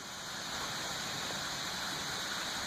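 Steady, broadband rushing water, like a distant waterfall roaring continuously with no voices.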